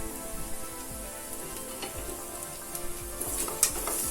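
Chili fried with ginger and garlic in a pan gives a faint, continuous sizzle broken by occasional soft taps of a spatula, heard close and alone.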